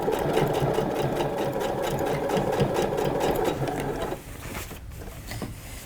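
A sewing machine runs a rapid, rhythmic stitch along a seam on Alfie trousers, close and steady for about four seconds before stopping, with lighter handling sounds after.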